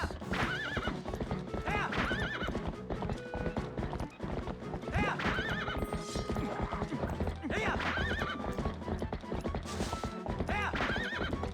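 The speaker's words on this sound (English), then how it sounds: "Yeah, I got a horse." Repeated horse whinnies over rhythmic clip-clopping hooves from the video game The Legend of Zelda: Twilight Princess, loud and continuous, with a steady low hum beneath and occasional voices mixed in.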